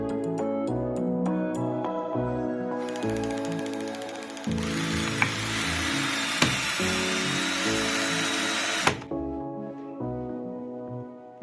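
12V cordless drill driving a small screw into wood, with a motor whine that rises in pitch for several seconds, then stops, with a few sharp clicks as the screw seats, close and alone.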